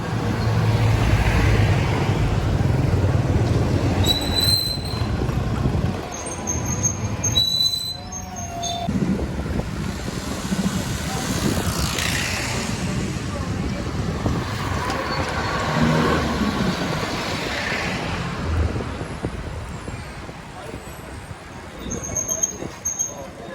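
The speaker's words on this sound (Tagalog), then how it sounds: "Mga traffic pa rin talaga kahit saan." Steady traffic rumble on narrow Almeda Street in Pateros, Metro Manila, with engines droning and passing close by throughout, loud and continuous with a few brief high squeals.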